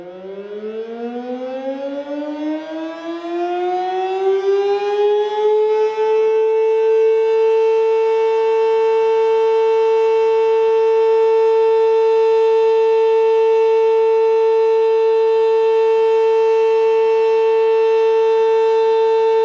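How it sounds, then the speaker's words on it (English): The Harriman fire department's noon whistle, a siren-like horn, starts low and rises over several seconds to a loud, steady, sustained tone that holds unbroken for the rest of the clip. "That is the sound of the noon whistle."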